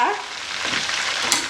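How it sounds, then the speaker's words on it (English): Fish frying in a pan for dry rice, a close, continuous crackling sizzle with bright spitting bursts and no talking. "The fish was frying for about 6 minutes."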